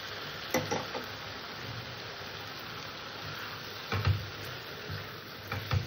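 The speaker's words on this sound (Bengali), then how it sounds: "সবজির সাথে এই মশলার সাথে সবজিটাকে আমি আবার একটু ভালো করে কষে নেব" Fried vegetables are stir-fried with spice paste in a pan for a vegetable dal, a steady soft sizzle punctuated by a few brief scraping knocks of the spatula.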